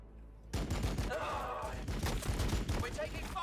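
Rapid gunfire in the Warhammer 40K Battlesector video game, a fast rattling volley of shots pounding on without pause, loud and close, with faint voices mixed in.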